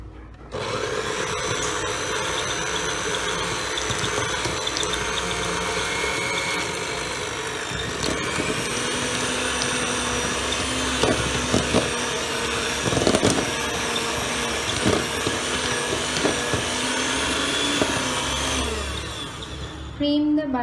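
Electric mixer beating butter for a chocolate cake, a steady motorized whir running continuously at moderate level, with occasional clatter of the beaters against the bowl.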